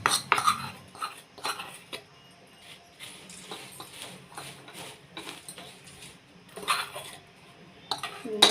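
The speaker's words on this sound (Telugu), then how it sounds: "ఇలా కలుపుకొని దీన్ని పక్కకు తీసుకొని ముందుగా రెడీ చేసి పెట్టుకున్న అటుకుల్లో పోసుకుంటున్నాను ఈ మసాలా అంతా" A spoon clinks and scrapes against a metal pan while masala is stirred and poured into flattened rice, irregular clattering with quieter stirring between.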